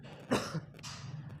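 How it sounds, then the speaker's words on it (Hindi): A man coughs twice at close range, the first cough harsh and loud, the second lighter, with no speech around it. "इसलिए बार बार खांसी आ रही है"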